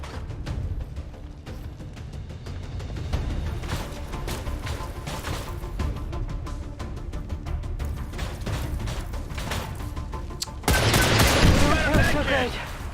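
Rapid bursts of gunfire in XCOM 2, volleys of sharp shots over game ambience, growing louder and denser near the end.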